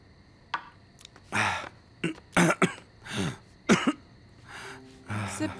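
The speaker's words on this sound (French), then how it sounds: "C'est juste une toux." A man coughs repeatedly in separate harsh bursts, loud and close, with short gaps and a throat-clearing rasp between them, and no speech.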